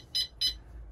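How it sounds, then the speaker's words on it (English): A caravan alarm on a 2021 Coachman Acadia Xtra gives two short, shrill electronic beeps in quick succession as it is set, clear against a quiet background. "this only gives one beep because it's only got one operation"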